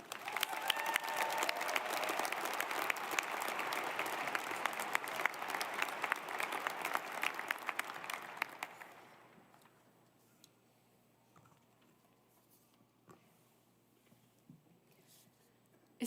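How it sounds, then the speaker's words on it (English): Commencement audience at a University of Wyoming winter ceremony bursts into dense, sustained applause for about eight seconds, then it fades quickly to a near-silent hall with a few scattered claps. "Please give the biggest round of applause and help me welcome Mercy McAndrew."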